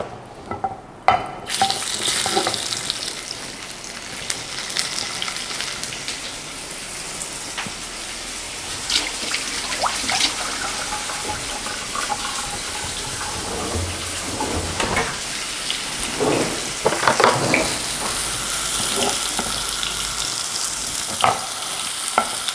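Tuna for tataki sears in a hot pan, a loud, constant crackling sizzle with spattering pops that swells louder when the fish is moved.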